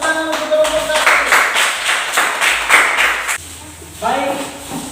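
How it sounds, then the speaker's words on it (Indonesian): Classroom applause for a student group, a burst of many hands clapping for about three seconds before breaking off, followed by a voice speaking. "Sekali lagi tepuk tangan untuk kelompok 1."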